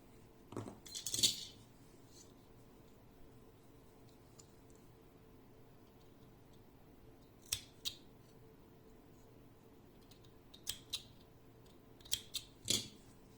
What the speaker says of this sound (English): A few times I am doing this and cutting the yarn.